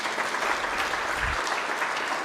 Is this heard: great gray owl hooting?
no